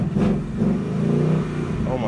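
Ford Mustang engine revving loudly up close, a throaty rising growl lasting a couple of seconds, with a voice audible alongside.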